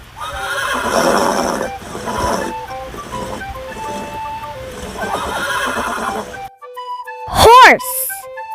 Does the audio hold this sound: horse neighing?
yes